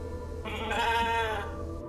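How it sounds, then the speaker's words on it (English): Sheep bleating in the video game The Alters, one short wavering bleat rising over low background hum, close and clear. "I've made a sheep?"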